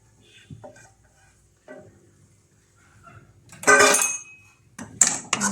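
Grated coconut is stirred in a pan while making wheat kozhukkatta, heard as a few soft scrapes and then two louder bursts of scraping and faint sizzle, separated by quiet gaps.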